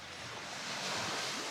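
Sea waves wash onto a beach beside a beach club in Phu Quoc, Vietnam, a soft continuous surf hiss swelling slightly, faint and steady with no voices.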